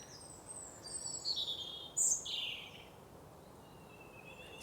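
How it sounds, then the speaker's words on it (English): A robin sings a few clear whistled phrases at a distance over a quiet outdoor background, with longer gaps between phrases. "you can hear all those birds singing, especially the red robin"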